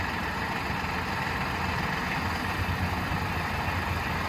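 Uncle Raleigh's borrowed tractor idles steadily with a rough, continuous low rumble, heard alone at a moderate distance with no voices.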